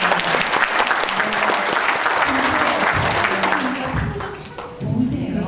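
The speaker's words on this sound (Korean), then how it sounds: "여러분 이럴 때 박수가 나와요." An audience at a book concert in Changwon breaks into loud, sustained applause that thins briefly before swelling again, with voices faintly mixed in.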